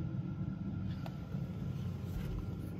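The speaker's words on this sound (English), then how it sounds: "However, the vehicle started." A 2010 Chevrolet Malibu engine idling after starting, a steady low rumble throughout with no speech.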